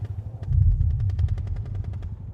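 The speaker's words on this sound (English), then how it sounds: "Gunfire intensifies." Rapid bursts of automatic gunfire in a video game rattle over a deep, rumbling low drone, steady and close, with no voices.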